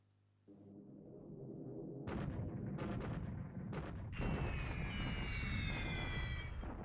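Artillery bombards Clark airfields in the War in the Pacific strategy game, a dense rumbling barrage of booms that builds from a quiet start into continuous heavy fire with overlapping blasts, loud and sustained.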